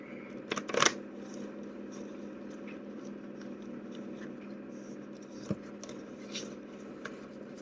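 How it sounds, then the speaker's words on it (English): Brief crisp burst of stiff wooden tarot cards being shuffled near the start, followed by a steady low room hum with a couple of faint taps. "the cards today, making it hard to shuffle them"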